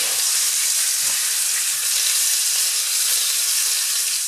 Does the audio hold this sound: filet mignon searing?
yes